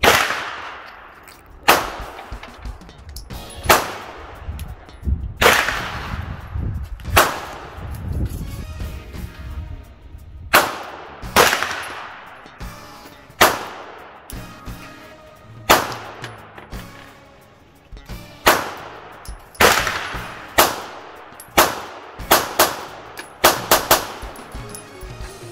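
Gunshots from a CZ 2075D RAMI pistol, a rapid series of sharp, loud reports that come singly and in quick pairs, each with a short ringing decay and metallic clangs, over about twenty-five seconds of outdoor shooting.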